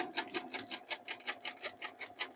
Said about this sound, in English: And you keep sewing along.